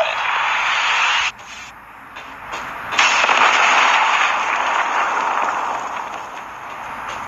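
A predator missile explodes in the video game Call of Duty: a loud, crackling blast of broadband noise cuts out abruptly, then swells again into a long rumbling roar that slowly fades.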